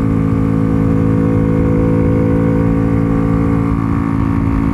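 A Honda Pop 120 motorcycle pulls in third gear, its engine droning loud and steady with a strong continuous note and little change in pitch, heard close up without talk.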